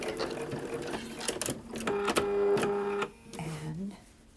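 A sewing machine stitches English paper pieced daisy chain quilt pieces in short bursts of whirring, with pauses and a brief lower hum as it stops and starts close by.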